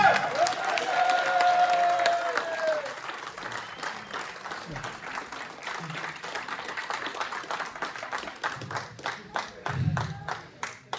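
A show audience in Meung-sur-Loire applauds for Griff: a voice speaks over the opening, then steady crowd clapping carries on, settling into rhythmic, evenly spaced claps toward the end.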